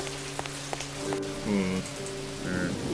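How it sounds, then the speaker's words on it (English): Rain falling in the video game And Then There Were None: a steady, soft hiss of rainfall with a few faint musical tones and clicks layered over it. "It's kind of raining."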